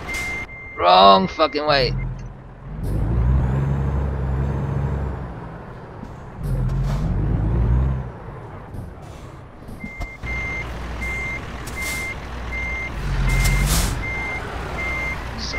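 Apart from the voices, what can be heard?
truck reversing with beeps in American Truck Simulator video game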